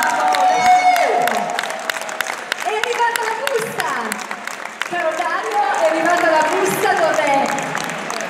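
An audience applauds and cheers young contestants at the 2017 Campari Barman Competition final in Italy: a busy wash of clapping with whoops and shouting voices, plus tonal sounds threaded through the crowd noise.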